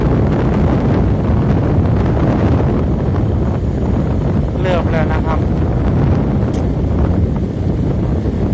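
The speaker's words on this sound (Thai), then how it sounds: "ลมหนาว" Cold wind blowing across open rice fields at the end of the rainy season, a loud steady rush buffeting the microphone throughout, with someone talking over it.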